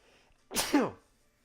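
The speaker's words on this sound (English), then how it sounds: "I'm going to sneeze." A single sharp sneeze, close and fairly loud, bursting out after a brief quiet breath, then silence.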